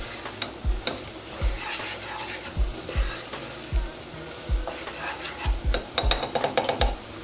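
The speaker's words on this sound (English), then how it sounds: "continue to stir this flour, onions," Flour, onions and garlic stirred in a pan for a smothered chicken gravy, a soft low sizzle punctuated by a rhythmic series of spoon scrapes and knocks against the pan, close and fairly quiet.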